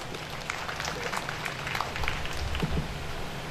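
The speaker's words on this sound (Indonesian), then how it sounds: "tepuk tangan buat Pak Sabtono" An audience claps for Pak Sabtono at an Islamic talk, with scattered, uneven hand claps over a low background rumble, moderately loud and lasting a few seconds.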